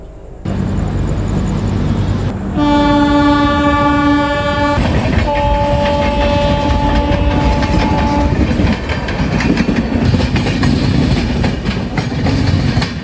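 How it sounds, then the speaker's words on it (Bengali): The Puri Garib Rath Express enters Santragachi Junction station, a loud sustained train horn sounding for several seconds over continuous rumbling wheels and rattling carriages, with clickety-clack continuing steadily afterward. "আমাদের ট্রেন এই মুহূর্তে ঢুকলো সাঁতরাগাছি জাংশন রেলওয়ে স্টেশনে।"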